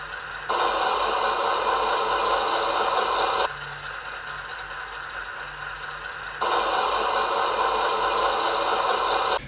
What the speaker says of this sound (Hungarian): egy sokkal mélyebb, karakteresebb hang jön ki a kis motorkocsimból, akkor, hogyha azt a limites hangvödröt tesszük bele.